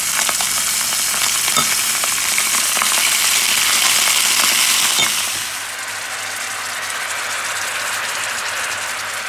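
Sea bream fillets lacquered with miso sauce sizzle loudly in a hot pan, a dense steady hiss that softens slightly partway through as the heat drops, with no talking.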